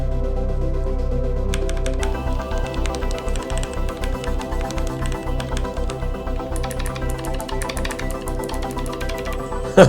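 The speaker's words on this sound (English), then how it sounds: "And now the new keyboard sound." A Keychron K8 mechanical keyboard is typed on close to the mic, a steady run of crisp, evenly spaced key clacks for most of the stretch, with no talking.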